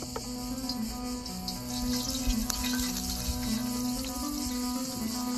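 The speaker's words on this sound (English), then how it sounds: "So fry the prawns for 2 minutes in olive oil with salt." Prawns frying in olive oil with salt in a pan, a steady close sizzle and crackle with a low hum beneath it, continuous throughout.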